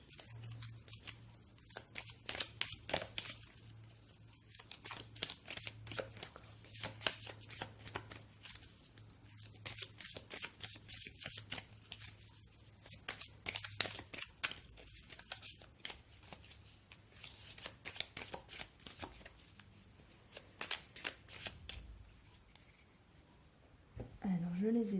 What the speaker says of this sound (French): je vais prendre le temps de les mélanger parce qu'il y a beaucoup de cartes